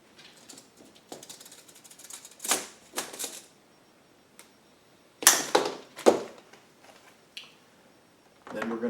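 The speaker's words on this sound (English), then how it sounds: "cut an 8 1/4 inch section of 1/4 inch hose" A length of 1/4 inch rubber fuel hose is cut for a Gidrox 6000 generator extended-run fuel kit, with a few sharp snips and handling clatter scattered among quiet pauses, close and fairly loud.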